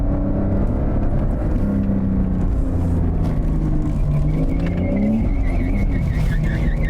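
A Porsche sports car slides into the first corner on a track, engine droning loudly and close, with tire squeal rising through the drift near the end and no voices.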